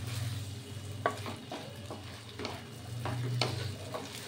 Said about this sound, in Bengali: এইবার এটা নাড়াচাড়া করব।